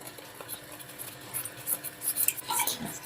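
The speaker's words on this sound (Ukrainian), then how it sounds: "І перемішуємо." A utensil stirs a caramel, butter and hot milk mixture in a bowl, giving soft, close clinks and scrapes against the sides in an uneven, continuous rhythm, fairly quiet and without speech.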